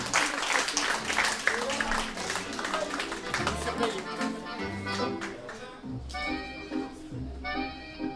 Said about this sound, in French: Applaudissements sur la musique qu'ils ont choisi pour l'ouverture de soirée